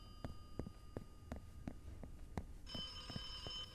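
A payphone rings in the video game The Occupation, a loud old-style bell ringing in regular repeated bursts, joined near the end by a steady higher electronic tone.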